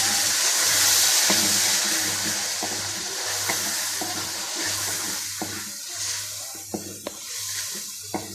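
Spices being stirred and fried in a pan for an aloo phaliya dish, with water sprinkled in. A steady close sizzle runs throughout, broken by scattered clicks and scrapes of the spoon.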